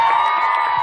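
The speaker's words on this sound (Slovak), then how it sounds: "Veľký potlesk, to je ona." Audience at a live show cheering and whooping as a performer is introduced on stage, a dense, loud wash of crowd voices filling the whole moment.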